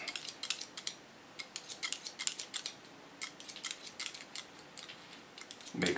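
Scissors snipping hair during an asymmetric pixie cut, a close run of quick crisp snips in uneven clusters with brief pauses, alone without talk.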